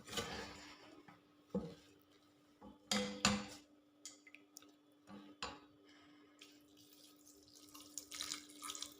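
Water poured into a duck curry masala with a faint splash and gurgle, followed by quiet clinks and knocks of a pan and spoon at low volume.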